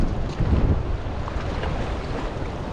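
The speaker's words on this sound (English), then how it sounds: "Whoa, the waves are strong." Strong sea waves wash over a floating bridge at Muzhappilangad beach in Kerala. A continuous loud surf rush is mixed with wind buffeting, with a heavier swell near the start and no voices.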